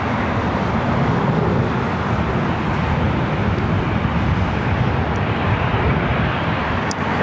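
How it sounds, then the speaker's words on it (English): A loud Airbus A380 airliner arriving at LAX, its broad, steady engine roar filling the air close by for the whole stretch without a break. "our next arrival is another A380 Super"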